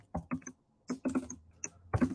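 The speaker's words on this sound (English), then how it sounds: "Sorry for the typing." Someone types on a computer keyboard in irregular bursts of clicking keystrokes with short pauses between them. The keys are close and distinct, and no one talks over them.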